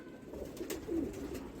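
Large, heavily feathered Tonk pigeon cooing softly while held in the hand, a low gentle coo rising once or twice over about a second and a half, faint and close.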